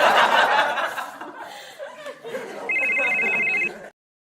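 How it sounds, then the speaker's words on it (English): A telephone ringtone trills steadily for about a second near the end, following a stretch of chatter and laughter. "that is not your phone ringing"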